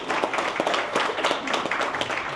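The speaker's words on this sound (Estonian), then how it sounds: "Tere suur aplausi." Audience applause welcoming a chef at a restaurant event: dense, steady clapping fills the whole short stretch at close range, with no voices standing out.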